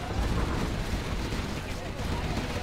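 A nuclear missile detonates in Command & Conquer: Generals, giving a sustained, dense, roaring explosion that fills the whole stretch with low rumble and crackle, while someone speaks over it.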